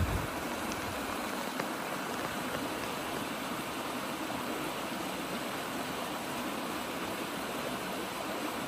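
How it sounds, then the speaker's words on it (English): Running water of a stream at Three Forks on the Appalachian Trail, a steady close rushing wash that fills the whole clip without pause, no voices. "I'll leave you with the running water here."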